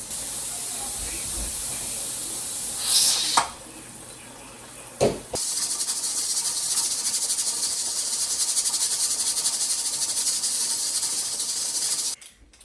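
A steady, loud steam hiss runs for several seconds after a couple of brief bursts, from a pressure canner venting with its weight rocking steadily while canning beans.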